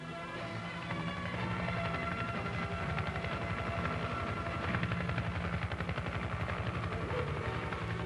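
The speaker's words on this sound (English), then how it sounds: "As the attack helicopters approach their attack positions, the scout helicopter moves to where it can observe for enemy aircraft" Attack helicopters in flight give a continuous, dense rotor thump with a rapid chopping pulse under a broad engine roar, heard at a steady, moderate level with no talking.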